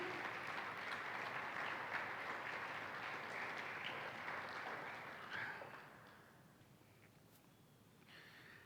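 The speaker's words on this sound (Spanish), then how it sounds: "Le puede dar palmas al Rey" A church congregation claps together during a Spanish-language sermon, a broad wash of applause that holds steady and then fades away near the end, leaving a quieter room.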